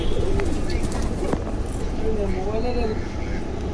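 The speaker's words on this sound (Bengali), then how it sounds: "ঘরের ভিতরে অনেকগুলো কবুতর রয়ে গেছে।" Pigeons coo inside a loft in soft, repeated rolling calls over a constant background hum, with a person talking at the same time.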